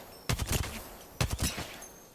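Two loud bursts of rapid gunfire from a shooter video game, spaced about a second apart, each a tight cluster of sharp shots that fades into a low background.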